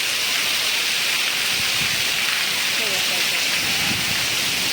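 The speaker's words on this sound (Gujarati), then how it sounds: "જબરજસ્ત વરસાદ કાંઈ દેખાતું નહીં એટલો વરસાદ પડે" Steady, dense rain hiss fills the scene, a continuous broadband wash with some low rumble underneath.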